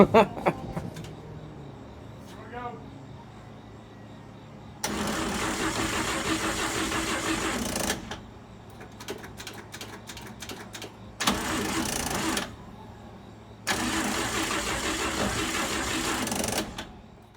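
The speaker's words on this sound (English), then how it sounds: "I'm going to fire this Cadillac up, cruise on down the highway like I'm supposed to" A 1955 Chevy Bel Air with a failing starter cranks in three loud, sustained bursts separated by quieter gaps, the grinding starter sound close by.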